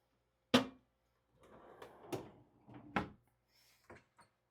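A hotel-room drawer holding a built-in safe slides and thumps open or shut, with one sharp knock followed by several softer scraping bumps, close by and moderately loud.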